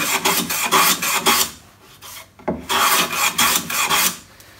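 Hand plane taking repeated strokes across a wooden workpiece in a workshop, cleaning up a damaged front edge; loud rasping swipes in a steady rhythm, a brief pause midway, no talking.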